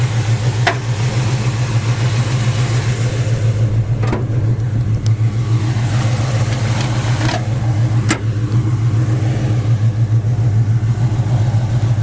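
The exhaust of a 1970 Chevy Chevelle Super Sport 396 rumbles loud and near in a deep, steady burble, broken by a few sharp clicks, with no speech.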